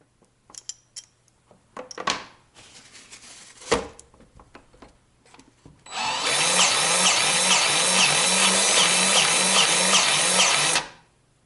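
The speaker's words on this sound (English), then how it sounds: "Or if you just wanted to use the grease gun to lube up something else." A Dewalt DCGG571M1 20V MAX cordless electric grease gun is handled with a few clicks and knocks, then runs for about five seconds with a loud, steady whirring and a pulsing pump rhythm before stopping abruptly.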